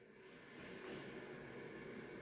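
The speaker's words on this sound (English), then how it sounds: "Sounds like this toilet's running." Steady hissing rush of running water from a toilet tank, continuous and even, with no other sounds.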